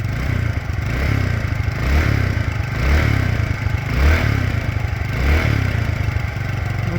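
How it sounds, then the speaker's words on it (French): Peugeot Speedfight 3 scooter with about 10,117 km, its small engine blipped with the throttle in several rising and falling revs over a clattering, buzzing idle, close and fairly loud. "Je vais mettre un petit coup de gaz."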